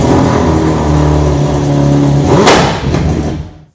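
Close motorcycle engine idling with a steady tone, then a sharp rev that rises and falls before cutting off abruptly.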